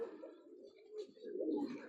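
Army pigeon chicks coo softly nearby, a low murmuring warble with a brief swell toward the end, faint and alone.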